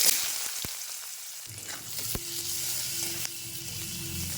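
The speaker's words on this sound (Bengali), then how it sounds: "ওই তেলের মধ্যে দিয়ে দিচ্ছি 5 ফোড়ন, একটা বড় সাইজের কেটে রাখা পেঁয়াজ।" Five-spice seeds and a large sliced onion go into hot oil left from frying eggs, a soft sizzle rising after a brief sharp clatter, then a steady moderate frying hiss with a faint clink partway.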